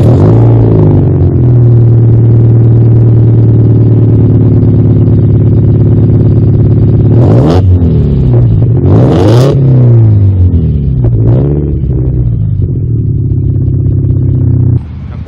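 A Subaru WRX STI VAB fitted with a full titanium muffler idles loudly with a deep, steady exhaust drone, then blips the throttle in several sharp revs that climb and drop before settling back to idle.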